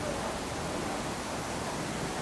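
Falling water from a waterfall in a Manhattan public park roars in a constant, close wash of broadband noise, unchanging throughout, with nobody speaking.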